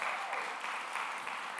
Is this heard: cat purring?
no